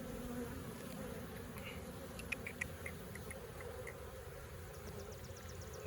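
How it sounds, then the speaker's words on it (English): Honey bees buzzing in an open hive during an inspection of a large but calm colony, a steady dense hum with a few individual bees droning closer by. "this hive is actually very calm for being a big hive. For being a big population for my bees"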